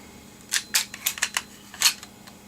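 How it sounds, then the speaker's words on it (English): A Remington Model 1100 shotgun bolt is eased forward after the carrier release is pressed. About six sharp, close metallic clicks and clacks sound in quick succession, alone in a quiet room. "Restrain the bolt handle and press the carrier release, gently easing the bolt forward."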